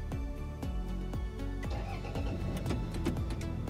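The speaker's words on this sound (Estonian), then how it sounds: "Auto läks käima." A Toyota car engine starts by remote GSM alarm, with a series of sharp mechanical knocks as it cranks and catches, settling into a steady close idle.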